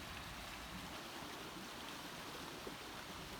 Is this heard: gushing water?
yes